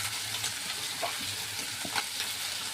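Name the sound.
prawns and coconut frying in a pan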